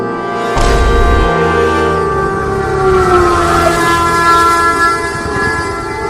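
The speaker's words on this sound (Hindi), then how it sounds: "आ गई ट्रेन, आ गई ट्रेन, आ गई।" A train pulls in with a loud horn blast at the start, then a steady rumble and screeching wheel tones that carry on to the end.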